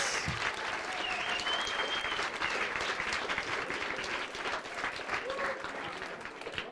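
Sustained audience applause following a talk, dense even clapping from a sizeable crowd in a hall, holding steady throughout and fading only slightly at the end.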